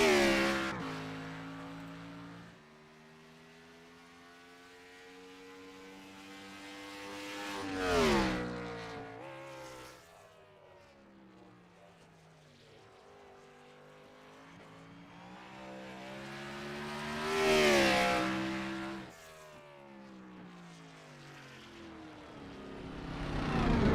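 Stock race cars in an iRacing Grand National Series race on a roval circuit howl past through the backstretch chicane, engines rising to loud near passes then fading, revs dropping and climbing under braking and acceleration.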